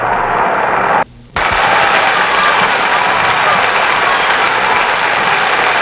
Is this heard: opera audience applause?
yes